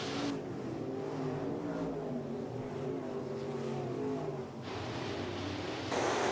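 Sportmod race cars roar around Eagle Raceway on a green-flag restart, a dense, continuous engine drone with rising revs and a surge as cars pass near the end.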